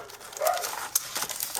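A dog whimpers indoors with a brief whine and a short yip, fairly faint and close by, with small background noises and no speech.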